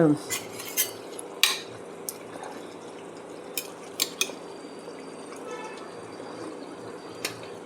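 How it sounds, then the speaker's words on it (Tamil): A whole chicken simmers in a cooking pot for a Bakrid curry as a metal utensil turns it, giving sparse, sharp clinks and scrapes against the pot over a quiet background. "முழு கோழி இறக்கி வேக வேக அப்படியே திருப்பி விட்டுக்கிட்டே இருக்கேன்"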